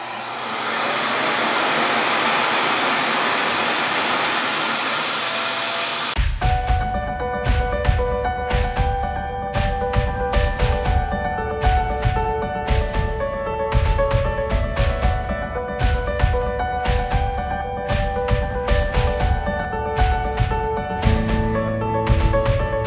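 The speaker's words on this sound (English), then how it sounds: "I use my Revair on the highest setting in the highest heat setting" A RevAir reverse-air hair dryer runs on its highest heat setting with a loud, steady rushing whoosh for several seconds, then rhythmic music takes over for the rest.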